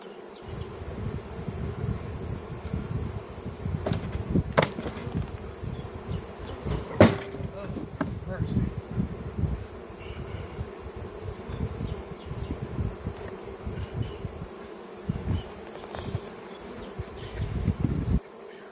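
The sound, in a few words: honey bees buzzing around a hive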